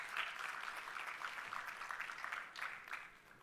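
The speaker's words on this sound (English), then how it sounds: "Put your hands together." An audience at a graduation convocation applauds for MBA students, a dense, steady patter of clapping heard from some distance, fairly soft and without speech over it.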